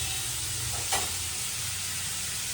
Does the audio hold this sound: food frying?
yes